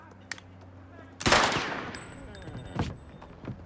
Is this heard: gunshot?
yes